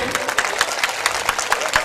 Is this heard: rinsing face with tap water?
no